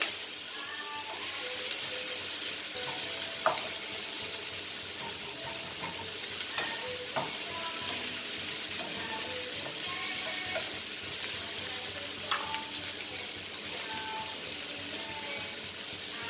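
Mutton frying in oil in a pan sizzles with a steady broadband hiss, while occasional clinks and scrapes of stirring sound close by, with no voices.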